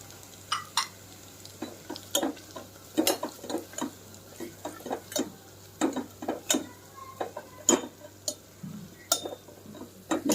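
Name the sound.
roasting chutney spice powder with garlic and coconut in a pan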